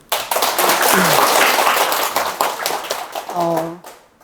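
An audience at a Catholic mass claps to welcome a guest speaker, with a short burst of applause that thins out before a voice speaks near the end.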